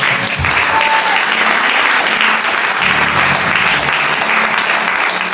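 Church congregation at a Sunday service applauding and cheering for Jesus, a steady, loud wash of clapping from a crowd that runs throughout, with scattered voices mixed into the noise.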